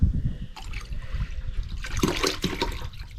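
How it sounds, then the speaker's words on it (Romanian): Yeast fertilizer concentrate is poured and stirred into a bucket of about five liters of water, giving close, continuous splashing and trickling with gurgling bursts and no talk over it. "Am pregătit între timp o găleată cu 5 litri de apă și vom amesteca."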